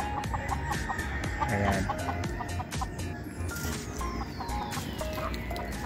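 A hen close to laying eggs clucks in quick repeated bursts nearby, among other fowl, with a brief spoken word.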